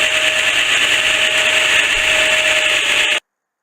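A belt grinder running a very fine Scotch-Brite belt against a knife blade for a satin finish, giving a steady, loud abrasive whir with a sustained tone that runs unbroken for about three seconds, then cuts off abruptly.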